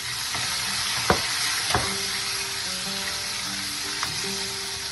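Vegetables frying in a generous pool of hot oil for a Bengali bharta, a steady broadband sizzle throughout with a few sharp stirring knocks and faint pops, close and alone without talk.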